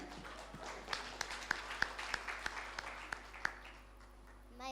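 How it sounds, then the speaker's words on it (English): Sparse, faint applause from a small audience, a handful of distinct claps spaced out over a quiet background. "May you please give a round of applause for Yolanda."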